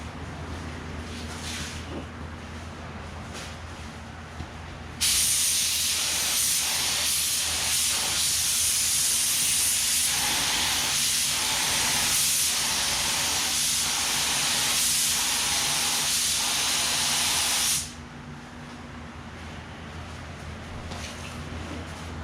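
Automotive spray gun blowing basecoat paint onto a car body panel, a loud continuous hiss lasting about thirteen seconds with slight pulsing as the gun sweeps, beginning and stopping abruptly against quieter workshop background.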